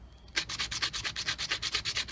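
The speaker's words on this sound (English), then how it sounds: "right now I'm just sanding this down" Hand sanding of the small window holders for a 1997-2002 Ford F150 window regulator, a steady run of about a dozen rhythmic rubbing strokes, close and fairly loud, with no talk.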